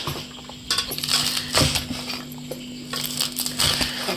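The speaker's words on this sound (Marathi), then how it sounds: "चला आता रिया मिरची चिरते," Green chillies being finely chopped with a knife on a board while cooking a wild vegetable dish, a series of sharp close cuts in irregular bursts.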